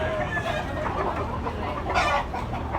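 A bullstag rooster at a market in Tabunok, Cebu, clucking repeatedly amid a busy, noisy crowd background, with the calls rising out of steady chatter and ambient market din.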